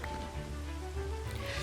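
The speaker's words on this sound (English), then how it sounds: "It was still raining" Steady rain falling in Minecraft, a continuous even wash with low rumble, alone and unbroken throughout.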